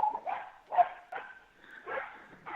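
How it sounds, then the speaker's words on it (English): Several dogs heard faintly in the distance outdoors, giving drawn-out howls and yelping barks in uneven bursts, with quiet gaps between calls. "the dogs are howling outside"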